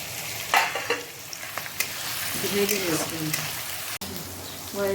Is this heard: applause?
no